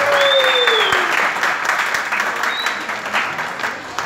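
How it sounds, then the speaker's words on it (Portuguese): Crowd applause at a street carnival expo in Duque de Caxias, steady clapping with a couple of whistles rising over it, fairly loud and continuous. "Por favor, uma salva de palmas"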